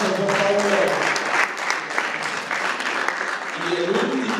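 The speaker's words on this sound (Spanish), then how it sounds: "Hermana Sonia, fuerte aplauso, por favor." Applause at a Mother's Day celebration as a mother receives a gift, a steady crowd clapping with voices mixed in throughout, holding at an even level for several seconds.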